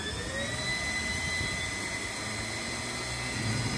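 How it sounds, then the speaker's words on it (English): A Bell 429 helicopter's turbine engine spools up during startup, a steady whine that rises in pitch over a broad roar of rushing air, close and constant with no talking. "Hit the timer and start the aircraft."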